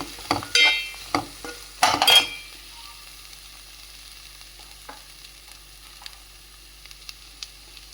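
Onions sizzling in a pan for a prawn, okra and egg curry: a few loud bursts of sputtering and stirring early on, then a faint quiet crackle with small scattered clicks.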